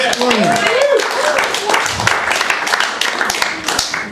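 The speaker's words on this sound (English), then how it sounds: "Clap for spring. Clap for spring." A comedy club audience claps steadily along with a stand-up comedian's call, a dense patter of hands running the whole time with whoops and voices rising over it at the start.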